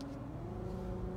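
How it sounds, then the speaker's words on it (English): A Nissan car with a JF011E CVT transmission, freshly repaired, accelerates during a road test drive, giving a steady, smooth engine and drivetrain drone with a faint whine and no gear shifts. "So now we're starting to accelerate."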